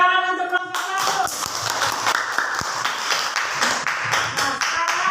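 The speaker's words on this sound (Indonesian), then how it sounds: "Tepuk tangan untuk kelompok 1" Classroom clapping for a student group, a burst of many small hands clapping in quick uneven rhythm, fairly close and lively, starting after a short tone and lasting several seconds.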